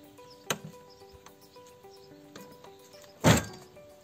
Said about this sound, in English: Even when the rack is mounted, you can still freely open and close the door.